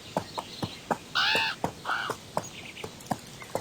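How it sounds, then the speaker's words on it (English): Crows caw in a desert setting in the video game Horse World, several harsh calls ringing out over a soft ambient bed, mixed with scattered sharp clicky hoofbeat-like taps at a steady pace. "I'm not sure why there are crows out in the desert"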